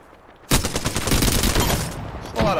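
Rapid automatic gunfire from a weapon in the video game Apex Legends, a dense, loud burst of shots lasting about two seconds, followed by a short second burst.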